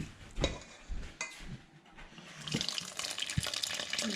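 Tap water splashing into a kitchen sink while sourdough is mixed, starting with short bursts and clatters, then a steady louder stream over the last second and a half.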